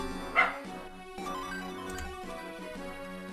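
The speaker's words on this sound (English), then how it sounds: "Sorry if you can hear the dogs." Dogs barking and yipping at play, a sharp close bark near the start followed by fainter barks against steady background music.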